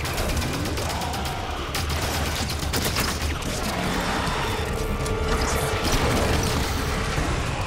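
Gunfire in the video game Halo 5: Guardians, rapid automatic bursts and mechanical clatter layered over a constant dense roar of battle noise, loud and continuous with no talk.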